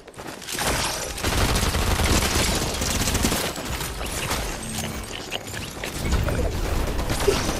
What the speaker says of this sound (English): We have a firefight, guys.